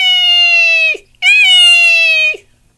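A person whistles or voices an imitation of a red-shouldered hawk, two loud, close, long even cries, each ending in a sharp downward drop, with a short pause between them.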